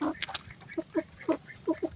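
A chicken calls in a run of short, nasal clucks and squawks, spaced irregularly and fairly close, with no talking around them.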